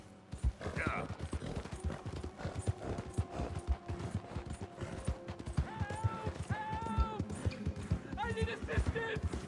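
Horse hooves clip-clop steadily at a trot in Red Dead Redemption 2, near and rhythmic under a busy game mix with a voice and other effects.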